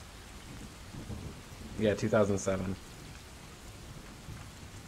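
Rain and thunder ambience from Rainy Mood plays faintly as a steady hiss, with a rumble swelling in the middle, while someone speaks over it.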